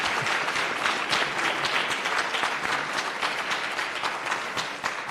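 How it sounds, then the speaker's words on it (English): Steady, dense applause from a conference audience for a panel of speakers, a continuous wash of many hands clapping at fairly close range for about five seconds, with no voices rising above it. "Can we please give a round of applause to our panelists?"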